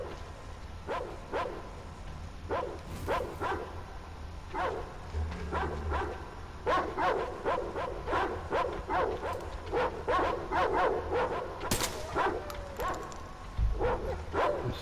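Dog in the Metro Exodus video game barking repeatedly in quick, irregular volleys, sharp yips and bow-wows mixed with whimpers against low background game ambience.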